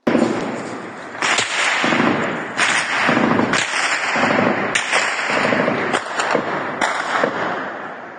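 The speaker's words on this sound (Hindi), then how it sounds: "ये तस्वीर देखिए दोस्तों, गोलियों की आवाज इसमें आप सुन सकते होंगे।" Gunfire in Aleppo, northern Syria: a series of loud, sharp cracks and bangs at irregular intervals, some close together, over a dense background roar, with no clear talk.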